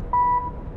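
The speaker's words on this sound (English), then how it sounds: "I gotta cross, it's beeping." A single steady electronic beep from a crosswalk signal in a horror video game, clear and fairly loud, holds for about a quarter second over low background rumble.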